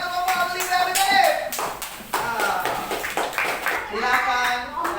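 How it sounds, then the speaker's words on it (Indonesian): Classroom of students clapping for a student group in an Islamic religious education lesson, brisk close-up claps with people talking and calling out over them. "Beri tepuk tangan yang meriah untuk kelompok Alif dan Alif."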